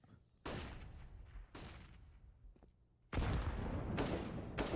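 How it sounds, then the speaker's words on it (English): Grenade blasts in Counter-Strike on the Mirage map during a professional match, several heavy booming explosions, each with a long decaying tail, the last and loudest one sustained near the end. "Beautiful nade onto Nico there"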